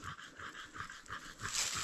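A dog pants quickly and rhythmically, quick breathy puffs repeating close by with no talking, on a forest walk.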